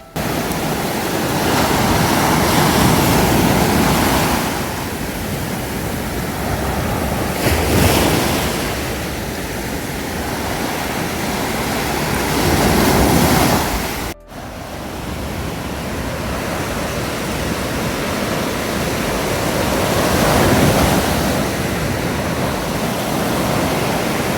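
Pacific Ocean waves roll in and crash in slow swells near Hakone, Japan, a broad steady roar with wind buffeting the microphone, no voices present.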